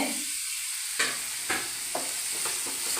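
Onions stirred in a hot frying pan with salt, a steady sizzle broken by four or five distinct scraping stirs spaced about half a second apart, close and alone with no voices.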